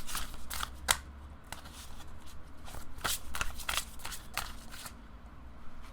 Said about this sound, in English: Now the next card that I'm going to take out